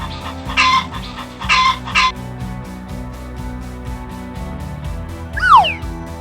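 Hen clucking in a kids' farm-animal vocabulary lesson: two short bursts of clucks close together, followed later by a quick squawk-like call, heard over a steady pulsing music bed.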